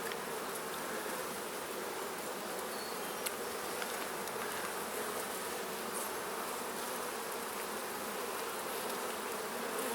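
Honey bees buzz inside an opened hive during a split, a steady close swarming drone of many insects, continuous and even without speech.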